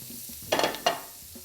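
Vegan butter and garlic dropped into a pan over low heat, two quick bursts of sizzle and stirring clatter close by, then quieting to a soft background hiss.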